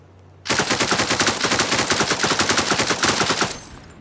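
Rapid automatic gunfire from a weapon in the VR game Beyond Sandbox, a steady burst of evenly spaced loud shots lasting about three seconds before cutting off into a short fading tail.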